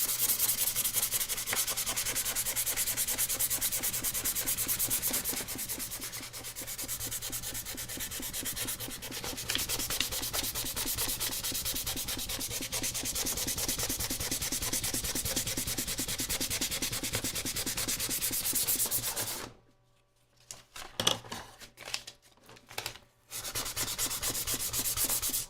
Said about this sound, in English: I do realize this would be easier with a lower grit sandpaper, but this is what I have.